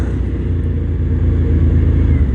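Suzuki TL1000R V-twin sport bike pulling under heavy throttle on a straight road, a loud, steady low engine drone that builds slightly in the second half, with no talking.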